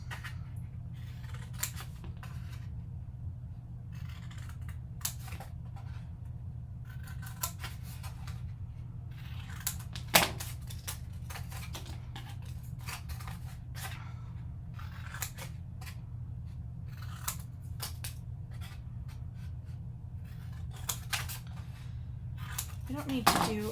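Scissors snip out corners of paper for a travel trunk album box, crisp irregular cuts scattered through a quiet room over a faint steady hum.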